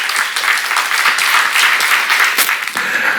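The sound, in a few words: audience clapping applause in church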